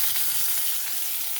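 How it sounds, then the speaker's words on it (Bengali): Spices and grated ginger fry in a pan, a brief, bright and steady hiss heard up close with no voices. "মশলাগুলো দিয়ে কিছুক্ষণ ভেজে নেব"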